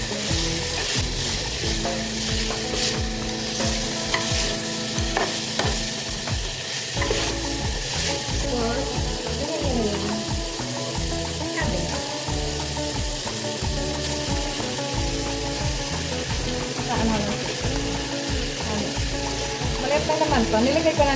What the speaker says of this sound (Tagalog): Ayan, gisa-gisa lang siya.